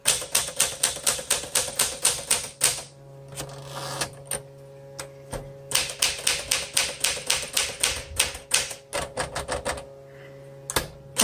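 Bursts of fast clacking keys on a 1961 Smith Corona Sterling 5A manual typewriter, broken by short pauses and a few isolated strikes, heard up close with no voices.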